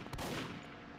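Gunfire in a Backrooms video game: one short, loud burst of shots that quickly trails off into a reverberant echo, with no talking.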